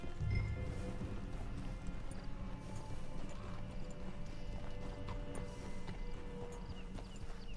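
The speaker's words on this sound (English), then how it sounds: "It's your horse." Steady clip-clop of horse hooves walking at an even pace in Red Dead Redemption 2, fairly close, with faint background ambience and no talking.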